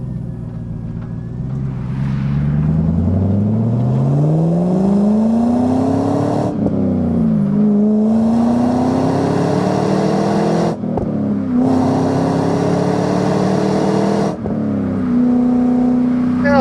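A 2000 Chevrolet Camaro SS's LS1 V8 with a six-speed manual revs hard at about half throttle and climbs in pitch, dropping briefly at each of three gear shifts before pulling up again, close and continuous.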